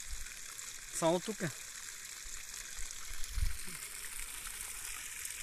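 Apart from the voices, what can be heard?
spring water gushing under pressure beside a river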